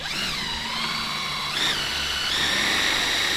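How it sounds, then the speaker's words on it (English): Electric drill used to drive a kayak propeller on the water, a steady high whine that shifts pitch as the drill surges and the trigger slips, running continuously and close. "But the drill is kicking out."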